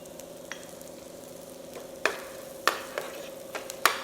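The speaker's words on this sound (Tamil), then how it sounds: "வெங்காயம் வதங்கிடுச்சு." Onions sautéing in a pan for seer fish masala, a soft steady sizzle with a faint ringing hum and occasional sharp scraping clicks of a spoon stirring, quiet and close, no talk.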